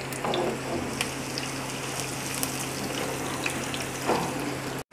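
Onions for an omelette sautéing gently in a pan until light golden, a steady continuous sizzle and crackle with a low hum underneath, close and even throughout, no talking.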